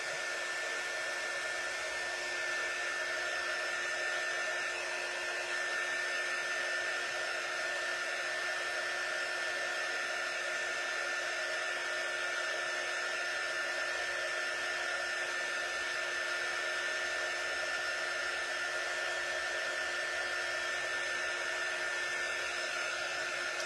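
A hair dryer blows steadily and continuously on a craft haunted house model, a constant airy whoosh with a whining tone that holds at an even level throughout, with no talking.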